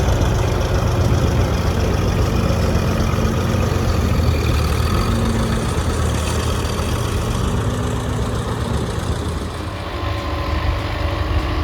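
A Case 730 tractor pulling a Kverneland plow at a plowing contest, its engine a loud, steady low drone running close by without a break, with no talk over it.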